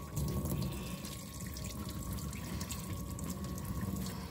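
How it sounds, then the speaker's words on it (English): Water from a tap runs into a sink while someone washes their hands, a steady, close rush that continues without a break and with no voices over it. "Oh, you stopped the water."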